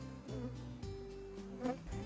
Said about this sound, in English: what it looks like when we first open the top up to a hive and just how many bees are on top of those frames